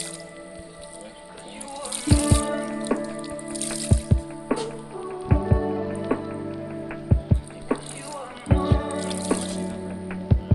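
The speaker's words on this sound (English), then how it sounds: "Now wring them out." Hand-washed wet clothes are wrung out by hand, water dripping and splashing in irregular bursts of drips and squishes, close by and fairly loud, with some music underneath.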